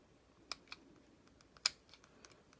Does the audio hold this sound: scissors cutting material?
yes